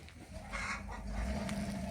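Roosters cluck in short, soft bursts nearby in freezing weather, around minus ten degrees, with a faint steady hum in the background.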